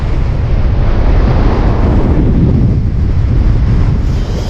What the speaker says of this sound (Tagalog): Oh, lakas ng hangin talaga.